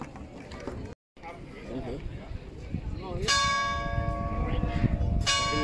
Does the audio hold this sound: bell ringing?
yes